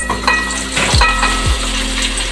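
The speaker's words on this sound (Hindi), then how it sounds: "सारी प्याज एक साथ ऐड करनी है और फिर हम इसको फ्राई करेंगे।" Sliced onions hit half a cup of hot oil and sizzle steadily, with a couple of stirring scrapes from a spoon against the pan, close and fairly loud with no talking.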